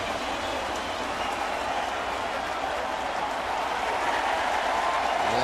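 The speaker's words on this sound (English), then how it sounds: "he gets a curtain call from the crowd" Crowd at Yankee Stadium applauding a home run curtain call, a steady wash of distant clapping and cheering that holds evenly throughout with no break.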